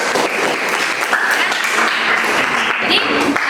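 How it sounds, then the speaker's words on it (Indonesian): Students in an Indonesian classroom applaud all the presenting groups, a dense, steady burst of clapping close by that fills the whole stretch, with faint voices mixed in. "Ibu berikan tepuk tangan untuk semua kelompok."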